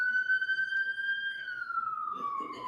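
A single police siren wails steadily at a distance around 12:13 a.m., its tone holding and then slowly dropping, with faint background noise underneath.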